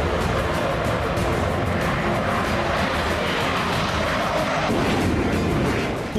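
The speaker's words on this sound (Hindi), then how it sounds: "लड़ाकू विमानों की गर्जना से गूंजेगा पूर्वांचल एक्सप्रेसवे।" Sukhoi and Mirage fighter jets roar over the Purvanchal Expressway, a loud, continuous broadband rumble that holds steady throughout.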